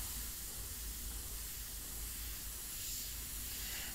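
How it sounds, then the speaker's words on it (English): An airbrush sprays India ink onto paper during portrait work, giving a faint, steady, unbroken hiss with no other sounds. "Very nice to do lettering to get a thin and wide spray quickly."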